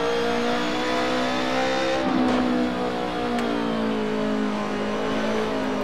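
A race car engine in the Assetto Corsa racing game revs high and steady, loud and continuous, with pitch dipping and climbing through shifts and a brief squeal-like burst midway; no talking.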